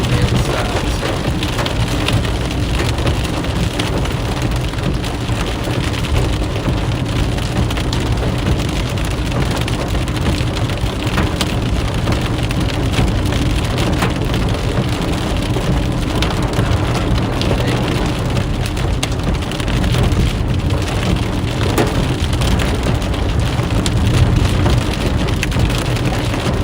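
Rain and hail pounding steadily during a severe storm in South Dakota, a dense, loud, unbroken roar with scattered sharp impacts throughout.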